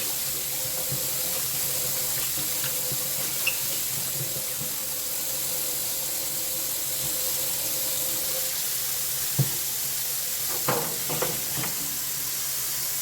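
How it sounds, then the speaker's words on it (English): Tap water runs steadily into a kitchen sink to wash collard greens, a continuous close hiss and splash with a few brief clunks and knocks near the end, and no talking. "And then I will to put more water in the sink and wash my greens again."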